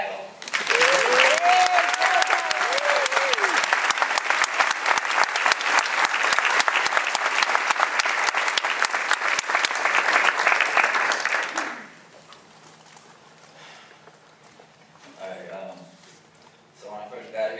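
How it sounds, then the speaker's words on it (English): A graduation audience at UT Austin's Latino graduation ceremony breaks into loud, sustained applause with scattered cheers for about twelve seconds, then falls quiet before a speaker begins talking. "Please join me in giving a round of applause to Joseph Gallardo."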